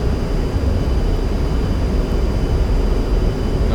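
An A-10 jet in a flight simulation game throttles up to full power for its takeoff roll down the runway, giving a loud, steady, broadband engine roar that holds unbroken throughout with no voices.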